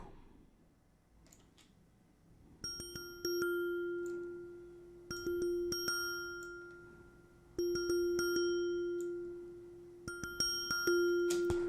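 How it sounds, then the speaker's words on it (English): Bright synthesized bell tones ring out in a repeating pattern of struck notes, each chime sustaining and fading before the next phrase. "this sound is called bells"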